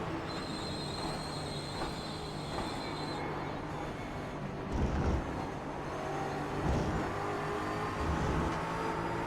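Mustang GT4 race cars rev and accelerate side by side at Watkins Glen International in a racing game, a continuous layered engine drone with rising pitch and a few louder surges, no talking.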